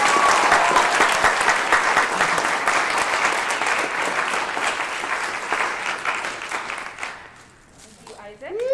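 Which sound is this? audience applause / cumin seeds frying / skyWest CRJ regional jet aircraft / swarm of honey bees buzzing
audience applause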